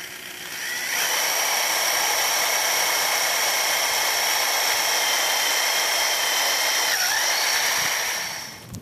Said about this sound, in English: They'll just drill straight through, put this bolt in